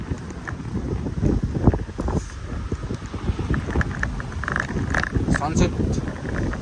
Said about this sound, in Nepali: फ्रेस हावा दामी चलिन्छ हावा